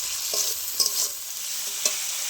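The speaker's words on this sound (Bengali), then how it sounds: "এইভাবে একটু নেড়ে চেড়ে টমেটোটাকে ভেজে নেবো" Tomatoes salted and frying in a pan as they are stirred, a steady close sizzle broken by a few short scraping strokes of the spatula.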